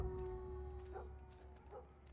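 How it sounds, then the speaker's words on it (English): A dog in The Last of Us Part 1 gives two short, faint, rising howls about a second apart, sounding distant over a steady low hum of game ambience. "do y'all hear that dog?"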